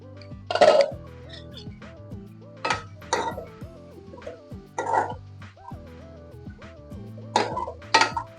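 Lid lifted off a cooking pan of softening tomato and onion for suran bhaji, giving several short clinks and scrapes spaced a second or two apart over steady background music.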